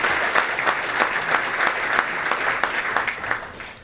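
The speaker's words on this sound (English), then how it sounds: "So let's give Khurshid a round of applause" An audience at a chamber of commerce luncheon gives a round of applause, moderately loud steady clapping with distinct individual claps pulsing through, easing off slightly at the end.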